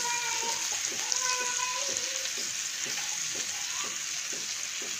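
Onions and chillies fry in hot oil in a pan, a steady close sizzle and crackle with light stirring scrapes throughout.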